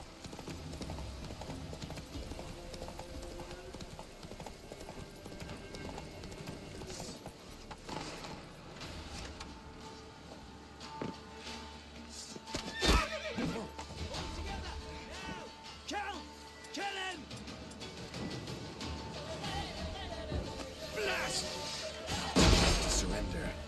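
Roach the horse gallops in a video game, hooves clip-clopping continuously with occasional neighs, sharp crashes and clanks mixed in, while someone speaks over the game sound.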